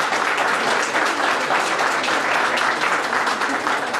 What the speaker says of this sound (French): grâce à notre ami Géry Varé, que je vous demande d'applaudir